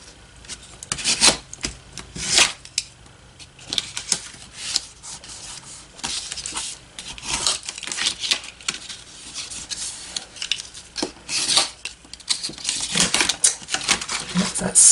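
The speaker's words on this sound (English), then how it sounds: "just take your scissors and clean it up" Repeated scraping, rasping scissor cuts through paper envelope material, irregular bursts at close range with faint voice in between.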